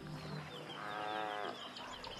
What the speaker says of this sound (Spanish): No muy lejos resuenan profundos y potentes mugidos.